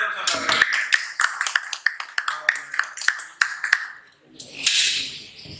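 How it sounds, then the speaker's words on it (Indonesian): A small classroom group claps in a sparse, uneven series of sharp, close claps that thin out and stop, followed by a brief murmur of voices. "tepuk tangan untuk saudara"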